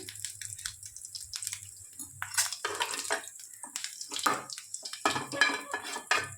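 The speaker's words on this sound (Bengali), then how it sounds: "গোটা জিরাটা ফুটে আসলে" Whole cumin seeds spluttering in hot oil for a paneer dish, a close, busy crackle of sharp pops and sizzles that rises and falls irregularly, with no voices.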